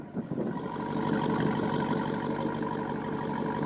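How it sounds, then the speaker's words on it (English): A 2021 Jeep Wrangler Rubicon 392's big gasoline engine burbles from the exhaust pipes, a steady, deep, throaty idle heard up close, rumbling continuously without revving. "That big engine though, you can just listen to the sound."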